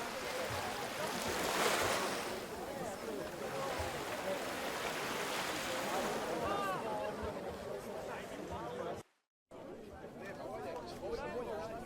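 Ocean waves wash steadily beside the Castillo de San Marcos walkway in St. Augustine, Florida, a continuous surf roar mixed with wind, with faint voices and a brief dropout near the end.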